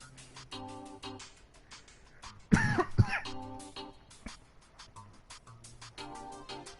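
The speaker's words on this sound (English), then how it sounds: "Sorry for the coughing." A couple of sharp coughs burst out in the middle, close and loud, over a quieter background of clicks and tones.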